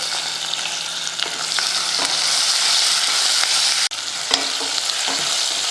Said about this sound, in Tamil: வெங்காயத்தை ரொம்ப கருக விட்டுறாமல் இந்த அளவுக்கு வதக்கிட்டு